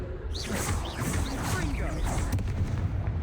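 Confringo fire spell blasts from Hogwarts Legacy, a string of booming, crackling bursts layered over continuous game sound and music, with a voice speaking briefly during the action.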